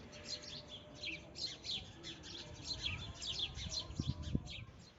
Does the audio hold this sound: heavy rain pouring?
no